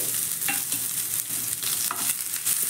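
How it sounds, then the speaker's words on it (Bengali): Chopped onion and two chopped green chillies frying in hot oil, a continuous close sizzle with quick scraping stirs of the spatula, no voices. "এবার তেলের মধ্যে দিয়ে দিচ্ছি একটা মিডিয়াম সাইজের কুচনো পেঁয়াজ আর 2টো কুচনো কাঁচা লঙ্কা।"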